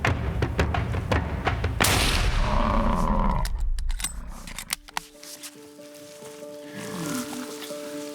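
A rifle shot fired at a buffalo during an outback bush hunt: one loud close blast with a rolling rumble afterward, followed by scattered thuds and outdoor noise.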